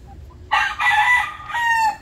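Gamefowl rooster, a Tornado hatch, crowing close by: one loud, harsh cock-a-doodle-doo with a brief break and a final drawn-out note, clear with no talk over it.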